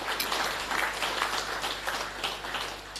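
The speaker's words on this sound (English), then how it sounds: "So I really think we can give a special round of applause to that" Applause at a rugby union awards ceremony, a dense, continuous wash of clapping across a large hall that holds steady throughout.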